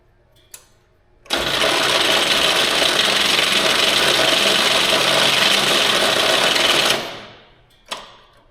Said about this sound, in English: Boy, that starter does not sound good